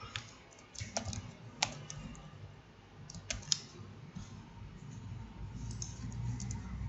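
Keystrokes on a computer keyboard while HTML code is typed into a file, an irregular run of close, crisp clicks with short pauses, over a steady low background hum.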